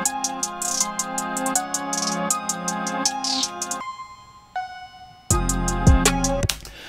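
Trap beat playback with busy hi-hats, bass hits and melodic synth layers, briefly dropping out to a sparse pluck before heavy 808 and drums return for the final beats, loud and with no voice.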